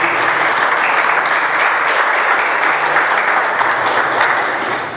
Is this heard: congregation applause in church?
yes